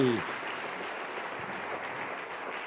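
A church congregation applauds during a service, steady clapping filling the room after a short voice at the very start, moderate and even throughout.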